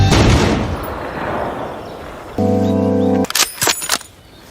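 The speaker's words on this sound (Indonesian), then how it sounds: "Drasa pun mengambil sebuah senapan dan langsung mengeksekusi pria tersebut." A sniper rifle shot in a film scene, a loud sharp report followed by a few quick bursts and echoing cracks, mixed with a rumbling background and a brief sustained tone.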